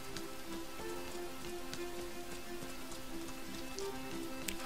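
Steady rain falls in the video game Rain, a constant soft patter of drops on the city streets with occasional sharper splashes, heard alone without any voices.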